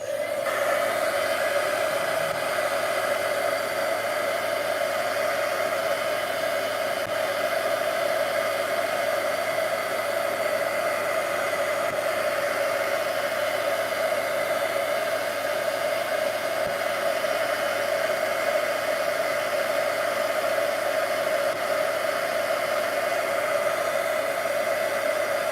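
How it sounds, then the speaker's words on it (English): A heat gun blows steadily on a Stampin' Up! metallic butterfly card, a constant close whooshing hiss of hot air that holds unchanged throughout with no talk. "If you're impatient like me, the heat gun is the way to go."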